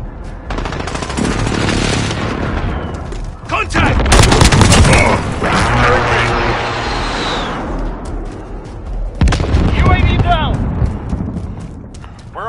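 Heavy video game combat on a PS4 objective match, with a precision airstrike's booming explosions and sustained machine-gun fire rolling across the field, loud and continuous, with radio-style announcer voices speaking over the battle.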